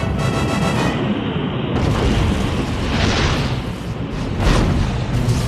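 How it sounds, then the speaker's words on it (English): Launch of a homemade spin-stabilized rocket, a loud sustained roaring rush with rumbling bursts that builds and swells over several seconds, close and dominant. "I'm building a spin-stabilized rocket."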